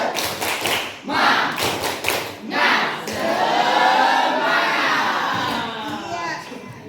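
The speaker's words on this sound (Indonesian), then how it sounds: "sekarang kita tepuk semangat lagi yuk" A school class does the tepuk semangat routine, several bursts of rhythmic group clapping and thumps with children's chanting voices, followed by a longer swell of crowd shouting.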